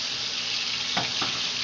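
Hamburger patties pan frying in a small amount of oil give a steady, even sizzle, with two brief brighter crackles near the end and no voices.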